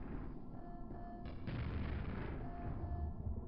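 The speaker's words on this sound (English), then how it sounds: "Maybe I shouldn't use the grenade launcher here." Grenade launcher blasts in Quake sound as a heavy, continuous roar of booming explosions. The low rumble stays loud and dense through the whole stretch, with no talking.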